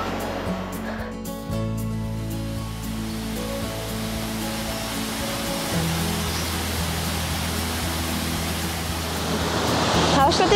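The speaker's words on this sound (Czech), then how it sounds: "Už vidím vodopád." Waterfall near Hallstatt in Upper Austria, a steady broadband rush of falling water that holds constant throughout, with a brief voice heard near the start.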